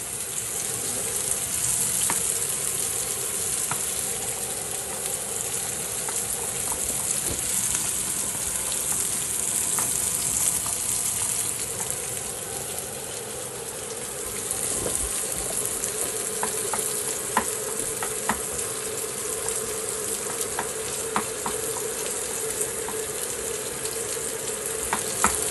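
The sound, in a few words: frying and stirring ingredients for spaghetti carbonara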